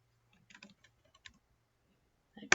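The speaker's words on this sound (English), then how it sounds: "I'm just typing that in so you can see where that shows up." Typing on a computer keyboard: a few sparse, soft key taps in a quiet room, ending with a louder cluster of clicks.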